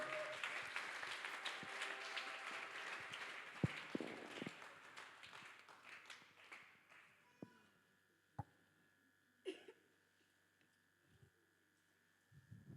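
Congregation at a French-language Catholic teaching session applauding for the Lord: loud, dense clapping fills the first several seconds, then thins into scattered claps and fades to a few isolated taps.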